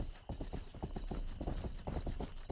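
Steady clip-clop of horse hooves in the video game Rustler, a quick even rhythm of hoofbeats continuing throughout, fairly close and prominent with no talking.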